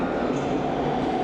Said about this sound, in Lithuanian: Ir tik atvažiavo metro.